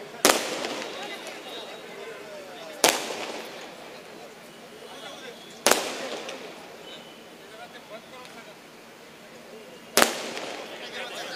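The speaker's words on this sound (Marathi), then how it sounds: "फटाके कृपया फटाके बंद करा." Firecrackers bursting at a crowded political gathering in Kothrud, four loud separate bangs spaced a few seconds apart, each with a short echoing tail over a murmuring crowd and a voice on a loudspeaker.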